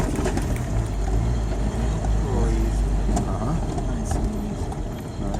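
An old Ford with a manual transmission, engine droning steadily as it pulls away and gathers speed, a constant low rumble that fills the cabin with road noise underneath.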